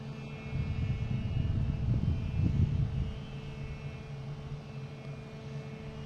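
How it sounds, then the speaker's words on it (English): Emirates Airbus A380 passing very high overhead, a faint, distant low rumble that swells slightly mid-way and then settles into a steady, soft drone. "That is an Emirates A380 flying over us."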